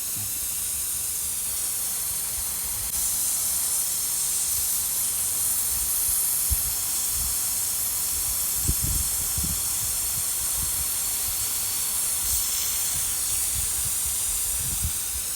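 Outdoors, a garden sprinkler head sprays water during a test run, giving a steady, close, airy hiss throughout, with occasional low thumps of wind or handling.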